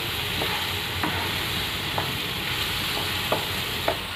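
Egg palya, an Indian egg stir-fry, frying in a pan with a constant sizzle and a few light taps and scrapes as a spoon stirs it, close by.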